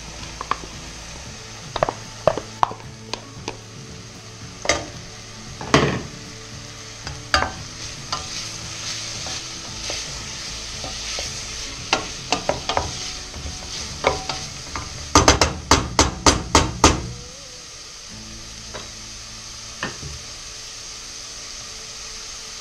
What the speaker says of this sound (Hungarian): Pirítjuk, pároljuk egy percet